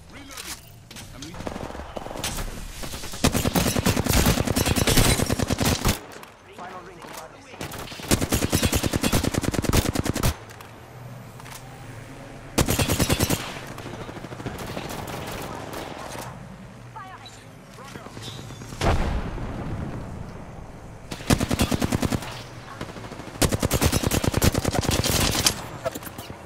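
Bursts of automatic gunfire in Apex Legends as a whole magazine is emptied, coming in loud sustained volleys that alternate with quieter gaps of game ambience. Players talk between the bursts.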